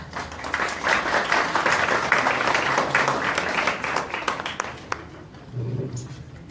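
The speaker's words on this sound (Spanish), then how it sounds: "al que recibimos con un fuerte aplauso." An audience at a university medical faculty breast cancer lecture applauds warmly for a surgery professor, the clapping steady for several seconds before fading, then a voice begins to speak.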